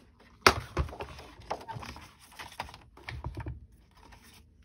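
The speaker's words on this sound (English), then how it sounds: "I'm going to cut my cardstock at 5 1/4 by 4." Cardstock is trimmed for a card base, giving a sharp close snap followed by a series of quick scraping and clicking cuts that fade toward the end, with no talk.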